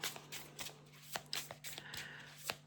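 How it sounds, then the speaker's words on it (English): A small deck of tarot-style cards is shuffled by hand, producing soft riffling and scattered sharp taps at a quiet, close level in an otherwise still room with a faint steady hum. "Give the little deck a shuffle, and then I'll pull a card."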